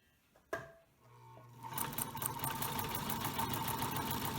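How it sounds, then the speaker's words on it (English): Restored Singer 128 sewing machine running electrically, a single sharp click, then the motor spins up into a steady, fairly fast mechanical whir with a rapid chattering rhythm, close and moderately quiet. "Let's just sew a little bit."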